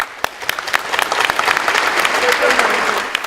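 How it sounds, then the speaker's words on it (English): A conference audience gives sustained applause at a tribute event, a dense, loud wash of many hands clapping with a few sharp nearby claps standing out, building slightly in intensity. "I think a round of applause to those for whom, because you're the future, the people who've just come to this one"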